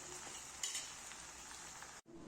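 Okra curry (bhinda nu shak) cooks in a pan with a soft, steady sizzle, faint overall, with a light clink early on and a brief dropout near the end.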